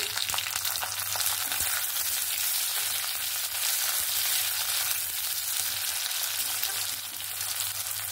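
Chopped tomatoes frying with browned onions in a pan, a steady, even close sizzle with a faint low hum underneath and no talking.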